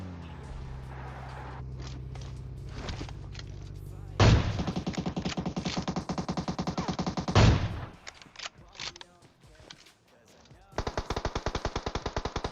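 Automatic weapons fire in a shooter video game, with long, rapid, evenly paced bursts of close, loud shots, a quieter gap, then another sustained burst.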